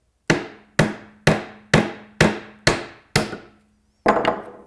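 Hammer blows drive a nail into a wood planter box board through a notched scrap block: seven sharp, evenly spaced strikes, then a short pause and one final heavier hit, close and loud with no voices.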